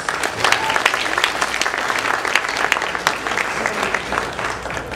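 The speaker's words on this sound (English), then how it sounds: "Give her a round of applause" An audience at an anime convention kimono fashion show claps for the woman curating the collection, a loud, thick wash of many hands with scattered crisp claps, steady from start to finish.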